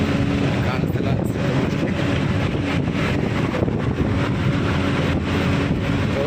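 Wind buffets the microphone continuously with a heavy, loud rumble, and speech runs through the roar.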